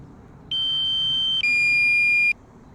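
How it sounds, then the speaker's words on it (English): Two loud, steady high-pitched electronic warning tones from a drone flying in West Hendon, London, each lasting close to a second, the second slightly higher, sounding alone over faint background hiss. "That horrible beeping sound,"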